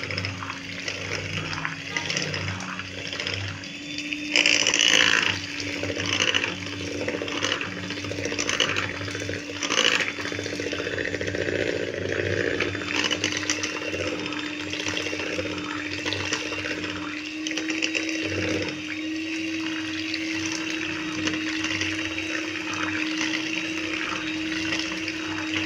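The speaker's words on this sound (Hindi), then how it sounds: "इसको भी हमें ना ग्राइंड करेंगे, मिक्स करेंगे मशीन से क्रीम के साथ।" An electric blender grinding and mixing ice cream ingredients with cream: a steady, close whirring motor hum with a churning liquid wash that runs continuously, with faint voices now and then.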